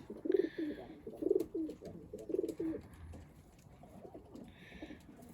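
Pigeons coo in soft, throaty bursts, several rolling calls close by, with faint higher chirps and rustling in the background.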